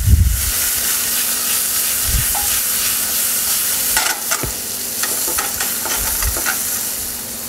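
Zucchini and prawns sizzle loudly in a pan for an Italian chickpea stracci dish, a constant close hiss of frying broken by occasional stirring scrapes and clatters.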